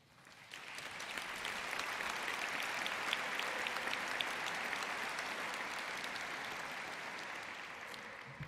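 Sustained audience applause at an award ceremony, a dense steady wash of many hands clapping that starts abruptly and holds at an even level throughout, with no talking over it.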